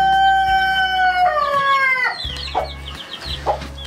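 Backyard chickens call loudly and close by: a drawn-out, crow-like cry slides down in pitch and then gives way to a few short clucks.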